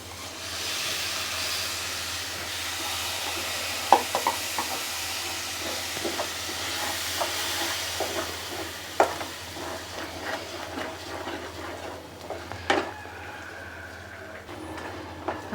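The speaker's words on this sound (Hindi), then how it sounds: "अब मैं इसमें बेसन ऐड कर लूँगी। इसे भी हमें भूनना है।" Gram flour (besan) roasting in oil for dhaba-style paneer, stirred with scattered spoon scrapes and clicks over a steady low sizzle and hiss, close and moderate in level throughout.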